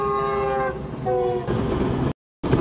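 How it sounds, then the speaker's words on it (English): Fast train passing by on a sunny day, a loud horn blast followed by another horn and rushing rail noise, close and then cutting off abruptly. "This is a fast train."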